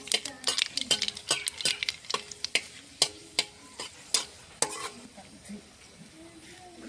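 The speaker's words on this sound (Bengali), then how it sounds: "একটা শুকনো লঙ্কা দেব, কটা কালো জিরে ফোড়নে দিয়ে দিয়েছি।" A dried red chilli and nigella seeds sizzle in hot mustard oil in a heated kadai, with a steady frying hiss broken by sharp clicks of a spoon stirring against the pan, and a voice speaking briefly.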